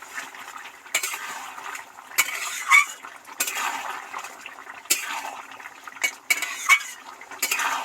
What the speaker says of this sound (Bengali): এবার নেড়ে ছেড়ে সুন্দর করে মিশিয়ে দেবো।